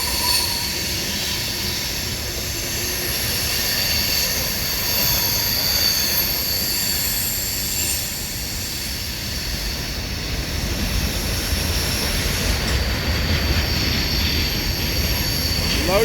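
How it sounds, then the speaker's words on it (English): Loaded southbound grain train rolling past on the rails, a steady broad rumble of wheels and cars with faint squeals, sustained and fairly near. "Looks like this is going to be a grain train."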